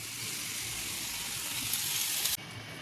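Butter melts in a pan for paneer butter masala with a soft, even sizzle up close, and a brief brighter crackle swells just before the sound drops off near the end.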